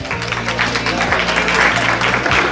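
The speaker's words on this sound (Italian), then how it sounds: "chiedo l'applauso per Benedetta più Sofia Ghidini" Audience applause for two 14-year-old girls stepping forward as contestants at a Miss & Mister Model Italia selection in Mazzano, Brescia, steady clapping under a background music track.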